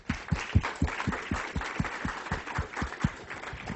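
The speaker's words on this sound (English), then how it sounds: "I'd like to offer a round of applause for him." Sparse audience applause at a railway engineering seminar, a modest scattering of claps in a steady rhythm, fairly quiet and without talk.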